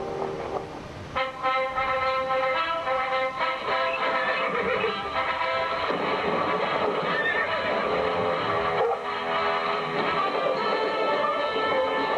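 Clydesdale horses neigh loudly in a Budweiser Super Bowl commercial, long shrill whinnies layered over clip-clopping hooves and a full, steady backdrop of sound.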